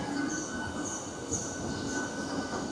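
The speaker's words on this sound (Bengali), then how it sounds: "এই সবে লোকাল ট্রেন ছাড়লো সাঁতরাগাছি থেকে" A local train just departed from Santragachi on the Howrah–Digha line gives a steady loud rumble from inside, with a high wheel squeal sustained over the rolling noise.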